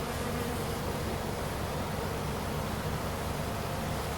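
Honey bees swarming around an opened backyard bee hive, a steady, dense buzzing hum that stays even and close with no pauses or voices.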